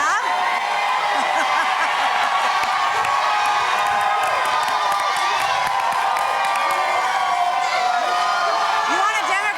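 Large political convention crowd at the Democratic National Convention cheering and whooping loudly and continuously, a steady roar with shouts layered throughout.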